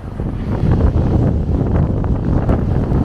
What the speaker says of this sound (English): Storm Franklin lashed the British Isles Monday with heavy rains and winds gusting to 80 miles per hour.